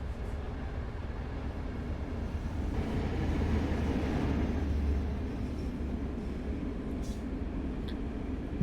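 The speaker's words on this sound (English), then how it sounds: "Another train roaring off on our right down there" A train rumbles past in the Train Sim World game, a steady low roar swelling in the middle and then easing off, heard alone with no voices.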